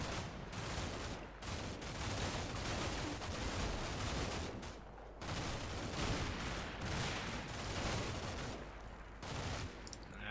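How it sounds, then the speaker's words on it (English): Gunfire and grenade blasts in the combat video game Combat Mission Shock Force 2, a dense, continuous fusillade of rifle shots and explosions with brief lulls, loud and unbroken throughout with no speech. "There's a lot of grenades going in there."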